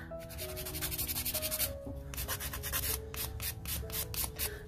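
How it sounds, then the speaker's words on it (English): Close, quiet rasping of a nail file shaping polygel fingernails, in quick back-and-forth strokes with a short pause midway. "I'm going to go ahead and file."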